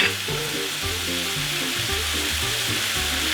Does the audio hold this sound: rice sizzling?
yes